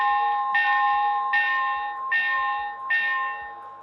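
Locomotive bell on a BLI PRR S2 turbine model train, ringing four times in a steady, evenly spaced rhythm, clear and close with no talking.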